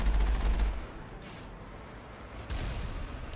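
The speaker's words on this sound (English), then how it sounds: "Another heavy turret." Heavy turret fire in the Mass Effect video game sounds as a loud opening burst, then quieter rumbling and a second burst near the end.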